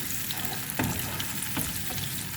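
Carrots and peas fry in a pan for raisin pulao, giving a steady close sizzle with a few louder stirring scrapes and no voice over it.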